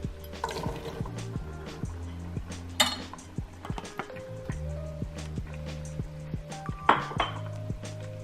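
Green chilies, onion and jalapeno go into a pan of melted butter, with repeated clinks and taps of a utensil against the pan, close and moderately loud.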